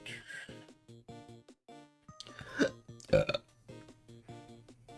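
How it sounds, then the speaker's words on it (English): Two loud, close burps rise out of a cluttered bed of game music and electronic tones during a UFO 50 challenge, the second one stronger and slightly longer. "There's a crime not saying excuse me after burping."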